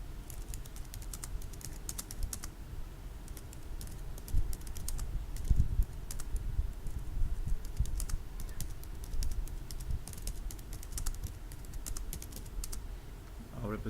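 Steady typing on a computer keyboard, a continuous run of quick, light key clicks with irregular rhythm, close and fairly quiet, no voice over it.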